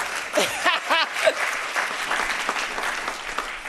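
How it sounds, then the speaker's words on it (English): A voice speaks briefly at a World Bank opening plenary of the Fragility Forum 2024, then steady crowd applause from the conference audience swells in and continues at moderate volume to the end. "I suggest that a moment of spontaneous applause is about to happen."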